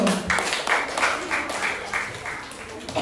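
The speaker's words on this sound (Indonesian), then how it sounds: "beri tepuk tangan untuk Devino" A school class claps for a pupil named Devino, a lively rippling patter of many small hands with a steady rhythm, moderately loud and close, with voices faintly underneath.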